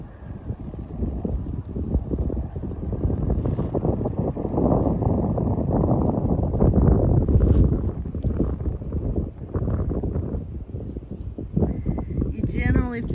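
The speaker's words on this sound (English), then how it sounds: "And there is the wind again." Wind gusts roar and buffet steadily on an exposed mountain ridge along the Appalachian Trail, loud and close with rumbling rushes that swell and ease, ending with a faint chirp.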